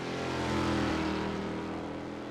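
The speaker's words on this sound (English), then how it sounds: "you certainly feel the revs climb as you come up over the top of the uphill" A race car's engine screams steadily at high revs on the Lime Rock Park circuit in the iRacing simulator, a dense, loud, continuous drone with a slight dip in pitch, no voices.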